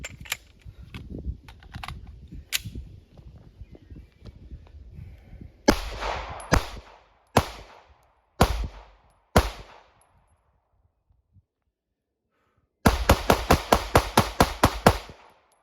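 Handgun shots fired weak-handed: after some quieter handling clicks, five loud, evenly spaced slow shots, a pause, then a rapid string of about ten shots in quick succession.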